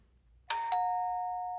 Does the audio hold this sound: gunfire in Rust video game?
no